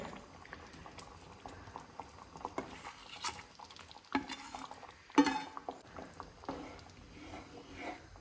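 Paneer in a marinated gravy simmers in a pan with soft, steady bubbling close by. Occasional stirring adds clicks and scrapes, and there is no talk.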